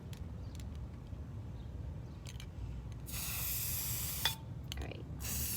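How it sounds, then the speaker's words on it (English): A can of green spray paint hisses in a steady burst as a pattern is sprayed. A brief, fainter hiss comes near the end against quiet background noise. "I'm just taking my spray paint and creating the pattern that I want."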